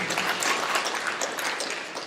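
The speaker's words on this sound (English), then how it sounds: "I'll give Dr. McGuire a hand clap" A dense wash of applause and hand clapping fills a board meeting room, steady and fairly loud throughout, with no talk over it.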